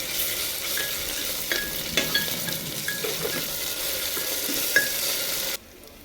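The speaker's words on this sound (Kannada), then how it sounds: "ಇದರಲ್ಲಿ ಒಂದು ಸ್ಪೂನ್ ಶುಂಠಿ ಬೆಳ್ಳುಳ್ಳಿ ಪೇಸ್ಟ್ ಹಾಕಿಕೊಳ್ಳಿ ನಂತರ ಇದನ್ನು ಚೆನ್ನಾಗಿ ಮಿಕ್ಸ್ ಮಾಡಿ" Ginger garlic paste fries in a pan under a steady bright sizzle, with scattered spoon scrapes and clinks as it is stirred, then cuts off abruptly.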